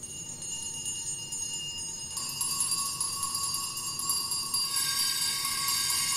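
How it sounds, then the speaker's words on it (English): Bright ringing of many bells in a house during a Christmas Carol stage performance builds up, a sustained jangling chorus that grows louder and denser partway through and keeps sounding to the end. "Every bell in the house must be ringing."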